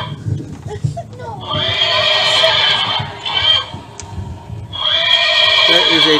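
A horse neighs loudly and close by in two long whinnies, with some hoof clatter and voices around it.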